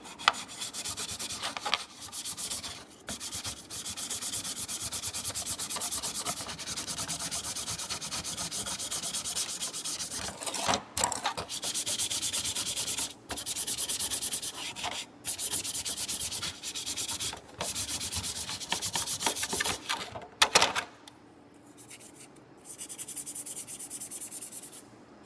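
A microfiber cloth rubs a soaked soft-touch coating off Volkswagen MK4/MK5 and Audi interior trim, making a steady, close, scratchy scrubbing that runs almost unbroken with a few short pauses and quiets near the end.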